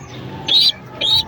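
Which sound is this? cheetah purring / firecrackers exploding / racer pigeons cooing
racer pigeons cooing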